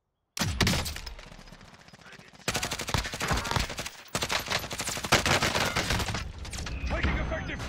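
Rapid automatic gunfire in Call of Duty: Warzone comes in loud, dense bursts with short pauses between them, and a voice is heard over parts of the shooting.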